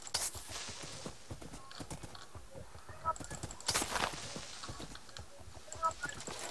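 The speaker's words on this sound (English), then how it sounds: "Get on your horse before he dies, dude." Minecraft horse hooves clip-clopping in a video game, a quick irregular run of light clops alongside keyboard typing, with a couple of brighter game sound effects popping out.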